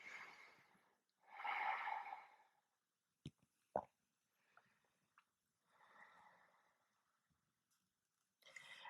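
Slow, deep yoga breaths taken close up: two long airy inhales or exhales, a few small clicks and sniffs between them, then another long breath starting at the end.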